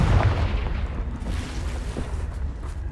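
A blasting-curse explosion in Hogwarts Legacy lands as a loud, deep boom that rumbles on and fills the whole clip, with no speech over it.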